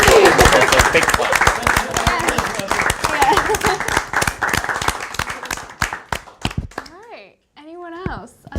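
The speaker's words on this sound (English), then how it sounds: "That's a big clap." Live audience clapping at a broadcast event, loud and dense at first, thinning into scattered individual claps before a voice speaks near the end.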